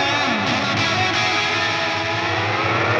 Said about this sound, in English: So here's that guitar effect.